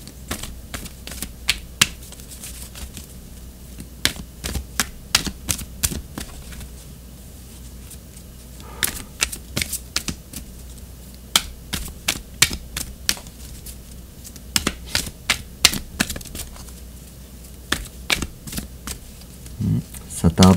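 Oracle cards being shuffled, giving a dry run of sharp papery snaps and riffles at an uneven pace, close by and fairly quiet, with pauses between bursts.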